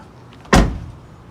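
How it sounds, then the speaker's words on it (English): A car door swings shut with a single solid thud during the fitting of a rooftop cargo bag carrier, a short loud impact that quickly fades into quiet. "and close the door"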